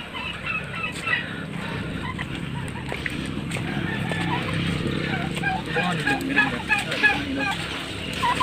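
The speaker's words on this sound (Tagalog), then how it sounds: "Yan, mga pabo." Turkeys and other fowl gobble and cluck in a farmyard, with steady background noise and some talking mixed in.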